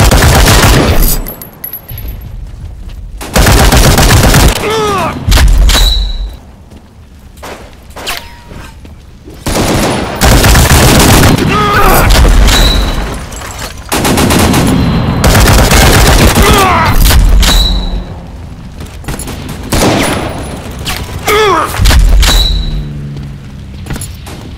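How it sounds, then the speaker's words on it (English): Sustained bursts of suppressive gunfire in a WWII multiplayer death-match shooter game, loud and dense with overlapping rifle and machine-gun fire and booms, broken by brief lulls and shouted voices. "Suppressive fire! Suppressive fire!"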